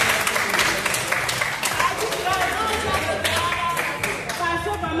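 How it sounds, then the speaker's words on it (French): Assembled alumni at a reunion gathering applaud together, a dense, steady patter of many hands clapping throughout, with voices mixed in beneath. "On applaudit pour"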